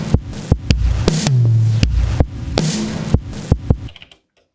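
A Digitakt sampler plays back a resampled loop of punchy, thumping drum hits with a sustained low tone in the middle, rhythmic and close, ending abruptly in silence.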